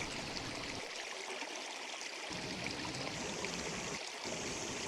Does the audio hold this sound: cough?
no